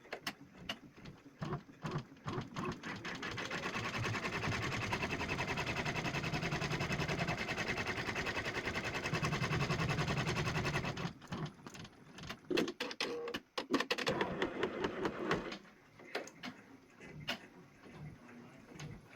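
A Brother PR1055X embroidery machine stitches a floral quilt design, its needle hammering in a fast, steady mechanical rhythm up close for about eleven seconds before slowing into intermittent ticks and clicks, with no one speaking.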